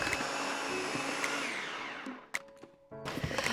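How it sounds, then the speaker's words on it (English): A food processor grinds walnuts for a vegan cake crust, a steady high whirring buzz that slows and winds down as the blade bogs, then a few clunks and short restarts. "Now we're going to blend until our blender food processor gets stuck."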